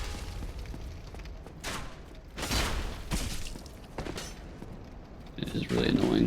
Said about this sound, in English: the cannon will fuck you up.